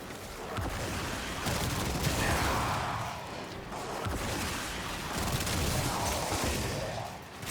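Dense continuous gunfire and bursting enemy explosions in the shooter game Warframe, loud rapid shots layered with booming blasts throughout, no voices.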